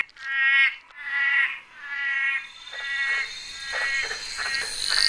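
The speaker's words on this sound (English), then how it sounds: "Amidst the cacophony of the frog chorus." A dense chorus of frogs croaking in overlapping pulsed trills, several callers repeating rhythmically at close to moderate distance, steady and loud with no talk.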